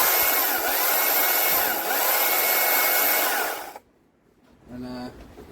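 A Stihl MSA 160C electric chainsaw cuts through wood with a loud, steady buzzing whine for nearly four seconds, then goes quiet before a brief motor whir returns.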